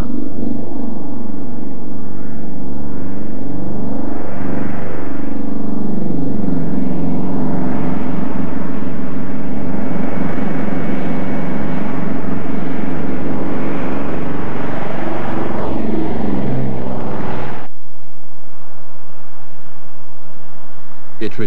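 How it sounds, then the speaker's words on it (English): A de Havilland Caribou aircraft flies with its twin engines running, a loud, steady droning rumble with rhythmic throbbing that cuts off abruptly near the end, leaving only faint noise. "the Caribou leaves to bring back fuel for the bomber"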